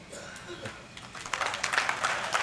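Scattered applause from an audience at the first Adivasi Dhangar literary conference in Solapur, a few loose claps at first that grow into irregular clapping, heard under and alongside a speaker's voice.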